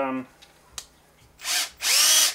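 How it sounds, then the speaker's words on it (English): An electric drill whirs up in two short bursts, loud and close, with an M5 screw chucked in it, after a brief moment of speech and a couple of clicks. "I'm going to chuck it in the drill"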